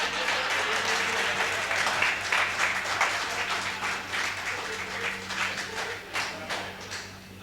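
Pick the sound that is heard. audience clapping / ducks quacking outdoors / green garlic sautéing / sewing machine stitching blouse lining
audience clapping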